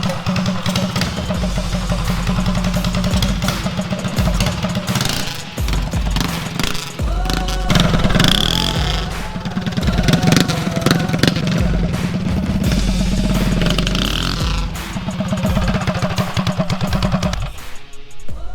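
A mini bike engine runs loud and steady throughout, its strong low drone rising and falling as the throttle opens and eases, with a close, continuous mechanical roar.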